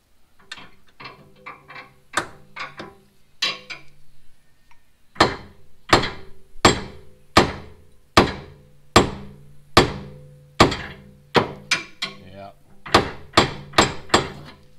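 Repeated hard hammer blows on metal, tapping at the door hinge pins of a two-door Chevrolet Tahoe, some quick and light at first, then heavier evenly spaced strikes ringing sharply up close.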